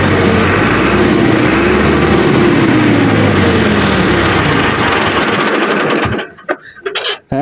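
Bull Power 577 tractor engine running steadily nearby, a continuous loud diesel drone that cuts off abruptly near the end, followed by brief clatter.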